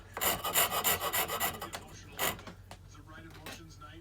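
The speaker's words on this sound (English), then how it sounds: "I use one of these here wood files" A wood file rasps across wood while a handle for a sledge is shaped, a run of quick rhythmic scraping strokes up close, then a few scattered single strokes.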